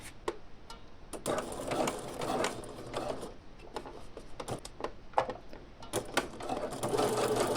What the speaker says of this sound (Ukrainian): І починаємо шити.